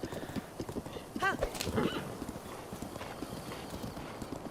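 Horse hooves galloping in The Legend of Zelda: Breath of the Wild, a steady rapid clip-clop with a brief whinny partway through, heard under faint game ambience.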